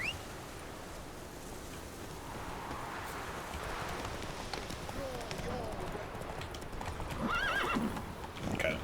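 Roach, Geralt's horse in The Witcher 3 video game, gallops with clear clip-clop hoofbeats and lets out a whinny toward the end, with someone talking over the sound.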